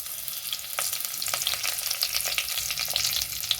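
Curry leaves crackling and sizzling in a couple of spoons of hot oil in a pan for Mangalore-style mackerel, a busy continuous spitting fry heard up close and alone.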